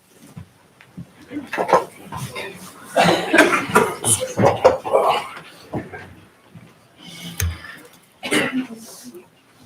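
Someone with a cold coughs and clears their throat at a county quorum court meeting, several rough, close bursts spaced across the clip with brief pauses between them.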